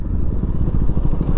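A KTM motorcycle with a mechanical problem runs roughly, its engine giving a loud, close, uneven low rumble with irregular knocks and jerky pulses throughout.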